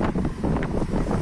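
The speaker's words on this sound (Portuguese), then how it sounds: "Espero que não esteja pegando vento aí, galera. Barulho do vento." Strong wind buffeting a microphone outdoors while walking at the Brazil–Uruguay border crossing between Jaguarão and Uruguay, a loud continuous low rumble with gusty surges and no voices.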